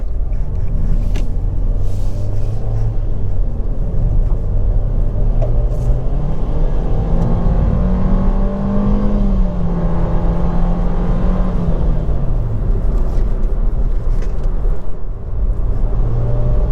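A Nissan economy car driving on the road, heard from inside the cabin as a loud steady rumble of road and engine noise with gentle rises in engine pitch as it picks up speed.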